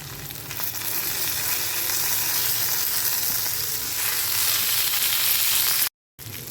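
Okra and potatoes fry in a pan, a loud, dense, steady sizzle with stirring, ending in a short gap of silence.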